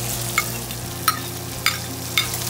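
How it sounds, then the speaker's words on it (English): Onions sizzle steadily in bacon fat in a Dutch oven, with four sharp stirring scrapes spaced about half a second apart over the continuous frying hiss. "now we're gonna add the onions until they are translucent."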